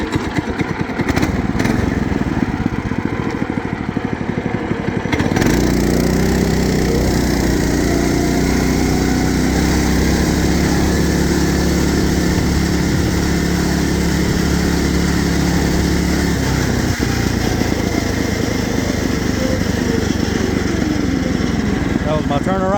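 A racing lawn mower engine runs loud and close throughout a test ride, with a rough idle at first, then a sustained high rev that wavers as the machine moves.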